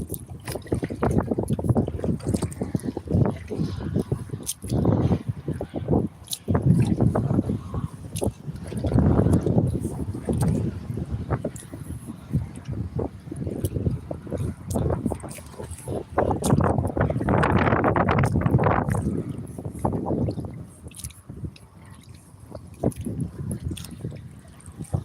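Steady wind buffets the microphone while kayaking on Frenchtown Pond, a continuous low rumble rising and falling in gusts, with soft water sloshing and occasional paddle splashes throughout.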